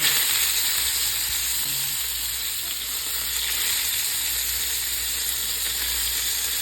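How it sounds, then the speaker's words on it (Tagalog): Eggplant sizzles steadily in hot oil in a pan, a continuous close frying hiss that holds even throughout, with no talking. "Mainit na siya. So, lagay natin."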